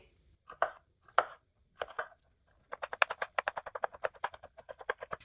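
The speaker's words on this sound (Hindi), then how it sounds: "अब यहाँ पे शिमला मिर्च के भी हम इसी तरह पीस कर लेंगे।" A bell pepper (capsicum) is cut with a knife on a board: a few slow, separate chops, then a fast, even run of close, crisp strikes with no talking.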